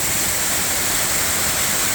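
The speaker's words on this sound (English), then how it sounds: "They decided to build an artificial waterfall." The artificial waterfall at Stow Lake in San Francisco's Golden Gate Park roars steadily, a loud, dense, unbroken rush of falling water with no voices.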